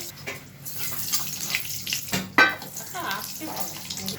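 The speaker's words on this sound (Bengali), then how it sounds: "এবার কড়াইতে তেল দিয়ে দিচ্ছি। কড়াইতে কালো জিরে ফোড়ন দেবো।" Nigella seeds dropped into hot oil in a wok for a mustard hilsa dish give a sudden sizzling burst midway, over a steady background hiss with faint crackling afterward.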